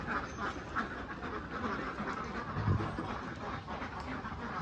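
Khaki Campbell ducks on a duck farm quacking in a continuous, overlapping chorus, moderately close amid a noisy background.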